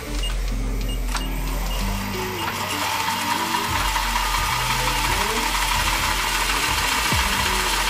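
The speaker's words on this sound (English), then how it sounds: "you might hear the motor's RPMs change a bit during this process" A small electric RC motor runs steadily during the break-in of a ball differential, a continuous whirring hum with mechanical clicking and shifting low tones as the speed varies slightly.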